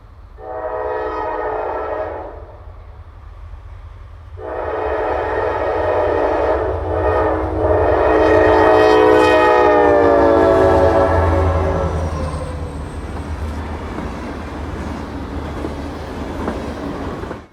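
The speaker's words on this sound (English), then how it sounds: "I'd catch a few trains in and around Richland throughout the day, starting with 6K4 through the ice-glazed rock cut" Freight train 6K4 rolls through an ice-glazed winter rock cut near Richland. Two loud horn blasts are followed by a long, swelling horn call over the rumble and clatter of passing cars, which fades toward the end.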